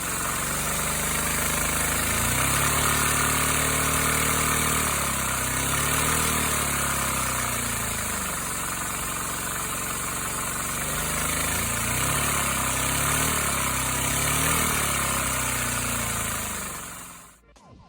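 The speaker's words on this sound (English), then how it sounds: "we have the version 2 of my dual overhead cam engine" A small homemade dual overhead cam engine, a second version with four pistons, runs continuously nearby with a loud buzzing drone whose pitch rises and falls as it revs, then cuts off abruptly at the end.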